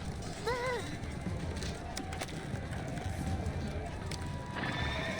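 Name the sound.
horses neighing and hooves clip-clopping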